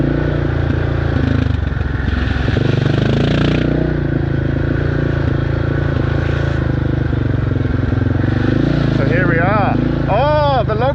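A motorcycle rides a rough, potholed dirt road in the Congo, its engine droning steadily with clattering and jolts from the rocky surface, while a rider talks over the noise.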